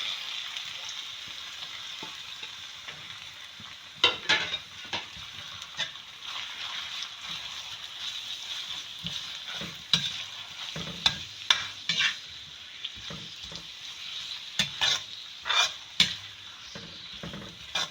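Medium-size onion frying in about a cup of oil, a continuous soft sizzle with intermittent scrapes and clinks of a stirring spoon against the pan.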